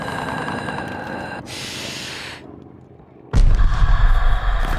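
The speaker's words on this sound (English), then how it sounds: "Friendly mortar fire coming" Friendly mortar fire in Call of Duty: Vanguard, a burst of battle noise that drops to a lull and then gives way to a loud, heavy booming impact near the end.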